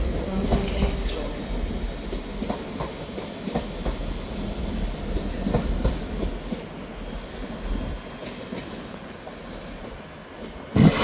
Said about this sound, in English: Arriving in now is the 12:31 Scotrail service terminating here at Edinburgh Waverley from Helmsburgh Central